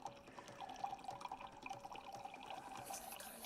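Water poured from a Brita filter pitcher into a kitchen measuring cup, a faint, steady trickle and splash running continuously with no talk.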